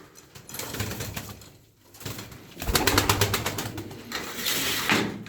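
Pigeons coo softly nearby amid rustling and a burst of fluttering wings, the low murmuring calls continuing throughout; the birds are flying-breed pigeons in a loft.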